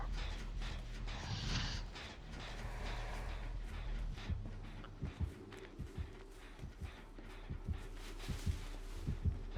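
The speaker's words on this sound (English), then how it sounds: "I hear that heartbeat" A heartbeat from the game Dead by Daylight thumps in a low, steady rhythm, the beats growing sharper and more distinct toward the end over a rumbling, noisy background.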